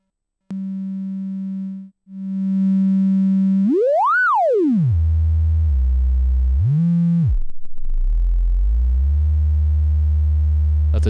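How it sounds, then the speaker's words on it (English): A 2 HP oscillator module in a modular synth setup puts out a steady, loud sine tone that briefly drops out, then sweeps up sharply and back down, shifts pitch several times with buzzy low tones, and ends in a sustained low drone. "I just want to hear the sine wave"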